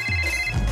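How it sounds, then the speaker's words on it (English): A telephone rings on an outgoing call, a steady electronic ring tone heard close and loud, continuous through the short moment with no talk over it. "Let's call her. It's ringing."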